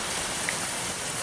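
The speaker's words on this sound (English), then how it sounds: "and we got hail." Hail falling outdoors on an Arizona homestead, a dense, even hiss of many small impacts in a short burst with no voices.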